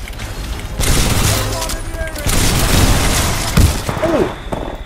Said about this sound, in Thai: LMG ปืนยิงปืนกลครับผม